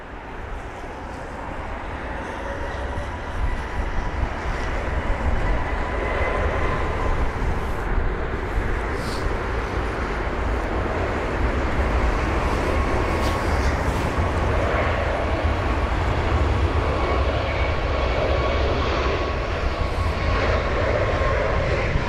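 An Airbus A321neo, about three years old, rolls out and takes off at London Heathrow on a wet day, its engines building to a loud, steady roar that stays close and sustained, with spray-laden rumble throughout.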